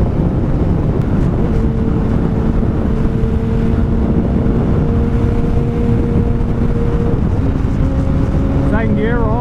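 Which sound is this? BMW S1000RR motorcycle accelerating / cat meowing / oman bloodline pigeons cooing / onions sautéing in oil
BMW S1000RR motorcycle accelerating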